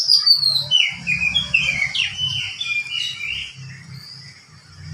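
A bird sings a varied run of bright, warbling phrases and whistles, close and clear, with a low rumble of background noise beneath.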